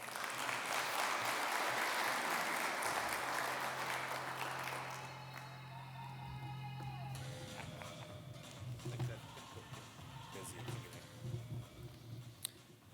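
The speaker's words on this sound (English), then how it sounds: "A round of applause, please," Conference attendees in Cape Town clap for a keynote speaker, dense applause for the first few seconds that thins and fades out, leaving room noise and scattered small knocks.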